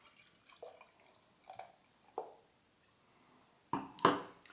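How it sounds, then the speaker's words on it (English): Avery Brewing Tweak stout poured hard into a glass: a few separate wet glugs and splashes, quiet at first, then two louder, closer splashing bursts near the end. "pretty aggressive pour for me"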